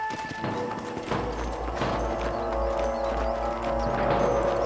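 Horse hooves clopping in the video game Red Dead Redemption, alongside a steady low rumble and layered ambient noise, fairly loud and continuous, with no clear speech.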